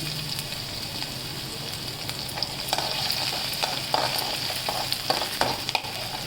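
Chopped onions, garlic and green chillies fry and get stirred in a pan for veg Manchurian, a steady close sizzle with scattered stirring scrapes and clicks throughout, no voices.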